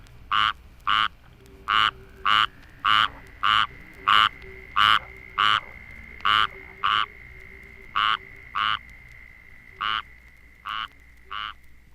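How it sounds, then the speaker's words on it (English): Squirrel tree frog (Hyla squirrella) calling at a pond: a regular series of loud, rasping, nasal calls repeated roughly twice a second, with a southern toad's steady trill running faintly underneath. "A much smaller and more slender species is the squirrel tree frog, Hyla squirrella, found from Virginia to Texas."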